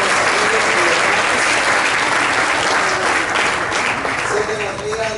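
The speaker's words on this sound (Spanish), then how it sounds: "denle ese aplauso a Cristo" A church congregation applauds in loud, dense, sustained clapping that fills the space throughout and eases off slightly at the end.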